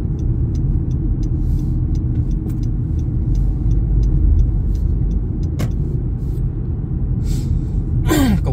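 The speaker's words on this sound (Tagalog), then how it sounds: "nag-build up na naman ng traffic dyan sa bandang loob sa left side natin." Steady car traffic on a Montreal road, a continuous low rumble of engines and tires with vehicles passing close by, and a brief brake hiss near the end.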